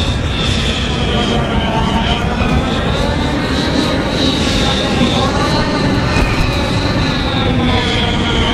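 Bomber aircraft roaring overhead during a Walker Assault battle on snowy Hoth in Star Wars Battlefront, a loud continuous engine drone with a wavering whine that persists throughout, with game noise beneath.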